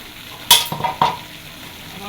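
Curry stirred and fried in a pan, a quick burst of scraping clatter from a spoon followed by a couple of further stirring strokes over a soft, close sizzle.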